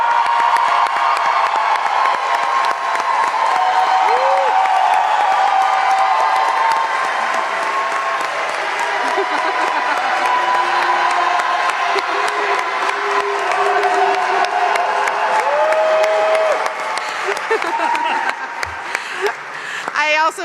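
A large crowd at the opening of a new Shirley Chisholm Recreation Center in Brooklyn claps and cheers for Brooklyn's Chief of Recreation, Eileen Dalton. The applause is loud and sustained, with scattered whoops and some voices mixed in.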